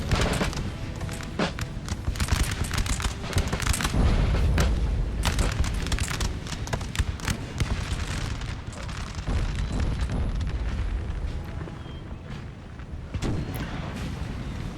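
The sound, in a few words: musket gunfire volleys in the video game Napoleon: Total War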